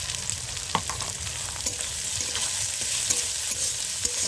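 Onions sizzle steadily in hot oil in a pan before snails go in, a close, continuous frying hiss broken by occasional clicks of a spatula stirring.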